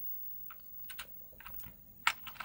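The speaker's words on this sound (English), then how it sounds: "Just multiple key combinations, like I'm pressing A and W and it's doing that." Keys on a ZX Spectrum home computer keyboard are pressed in a quick irregular series of soft, close clicks, with small pauses between bursts and no talking.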